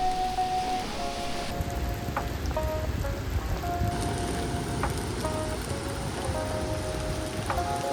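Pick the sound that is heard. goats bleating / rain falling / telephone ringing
rain falling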